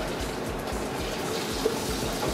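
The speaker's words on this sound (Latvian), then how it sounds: "Lejam asins klāt" Blood pouring into a bowl of pancake batter made with ground caraway seeds and coarse homemade breadcrumbs, a soft steady liquid trickle close by, with no talk.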